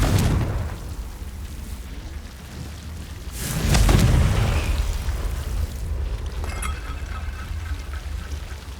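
A Confringo blasting spell goes off in Hogwarts Legacy, a single heavy boom with a rumbling tail that swells and fades, followed by scattered crackling debris, with no talk over it.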